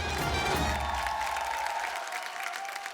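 Loud, full crowd applause with some cheering in a TV studio during an Indian reality show, sustained without breaks and backed by a bright musical tone fading under the clapping.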